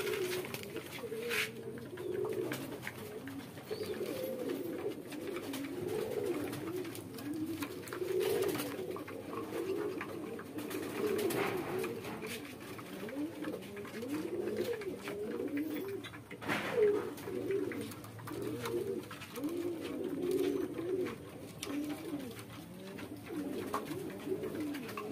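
Pigeons coo continuously in low, throaty warbles, several birds overlapping at a steady moderate level, with occasional clicks and rustles.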